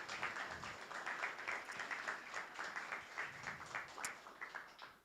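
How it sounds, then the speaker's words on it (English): Faint applause from a crowd at a youth hackathon awards, a steady patter of many hands clapping at a distance. "let's do a round of applause also for the awards"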